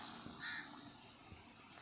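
Crows caw in a logged area during a Malaysian walkabout, one harsh caw rising out of faint outdoor ambience, fairly distant and brief.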